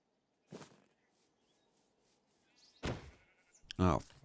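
Minecraft sheep in the RLCraft modpack bleat in short bursts, one near the start and a couple of louder calls near the end, separated by a quiet stretch with faint game ambience.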